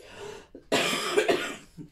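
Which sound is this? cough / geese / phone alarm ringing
cough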